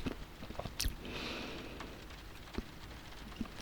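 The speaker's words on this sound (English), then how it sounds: "it's absolutely pouring down outside." Heavy rain pours down outside, a steady broadband hiss with scattered louder drips and taps, heard from indoors at a moderate, even level with no talking.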